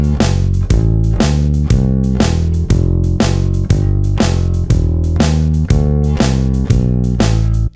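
Electric bass runs through a 12-bar blues turnaround at 120 BPM, a steady, driving stream of plucked notes with even attacks. It is loud and upfront with nothing else playing.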